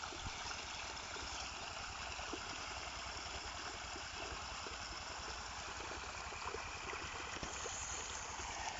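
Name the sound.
irrigation water flowing into a field from the river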